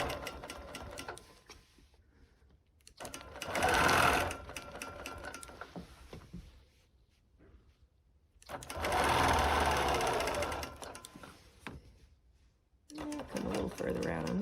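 A sewing machine stitches around a quilt outline in two loud bursts of rapid, even whirring, separated by quieter pauses, with a voice speaking between runs.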